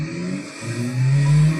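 Race car engine in a racing video game at Sebring, held at full throttle with a loud, steady drone whose pitch climbs as it accelerates, alone with no talk.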